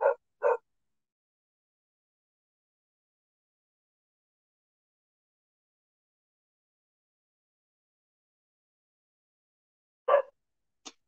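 Two quick dog barks close together, then a long stretch of silence before one more short bark near the end.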